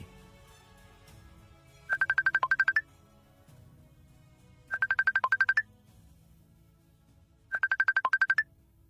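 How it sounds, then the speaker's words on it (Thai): A telephone rings with three separate bursts of rapid electronic trilling, evenly spaced over a quiet, low background, in the lead-up to a call during a staged light-and-sound history show about Khukhan town. "งั้นพี่ขอโทรศัพท์โทรหาพี่ยุทธหน่อย"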